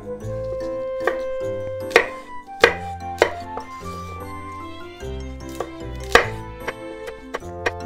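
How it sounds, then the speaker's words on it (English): A knife chops vegetables on a board for vegan Japanese tsukemono pickles, making a series of crisp, close, uneven thuds over steady background music. "cut into pieces like this."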